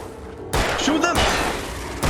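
Gunfire in the video game Alan Wake near a gas station: a loud burst of shots erupts at half a second amid game noise, with another blast at the very end.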